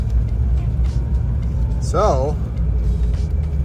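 Steady low cabin rumble of a Land Rover Discovery 1 truck running and driving, a continuous road drone under someone speaking a single word and a brief squeaky sound partway through.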